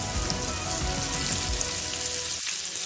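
Chopped onions hit fried ginger in a hot pan with a steady, close frying sizzle that crackles throughout, then drops briefly near the end.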